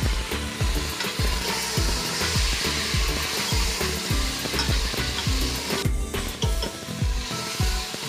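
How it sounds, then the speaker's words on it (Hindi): Mutton pieces with freshly crushed ginger and garlic frying in a pot for a stew, a steady loud sizzle under repeated rhythmic stirring and scraping knocks, with no talking. "पाँच से 6 मिनट तक मटन को हम फ्राई करेंगे"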